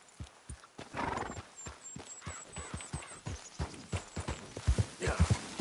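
A horse whinnies and snorts amid a steady run of clip-clopping hooves in the video game Red Dead Redemption 2, close and fairly loud, with a faint high chirping in the background.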